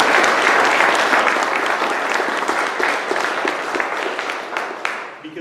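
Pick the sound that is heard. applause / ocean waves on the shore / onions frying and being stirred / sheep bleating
applause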